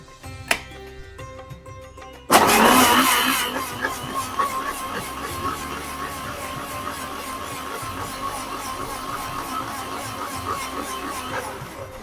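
A mixer grinder switches on about two seconds in and runs loudly and steadily to the end, blending a date chutney seasoned with red chili and cumin powder for a fasting-day shev puri recipe.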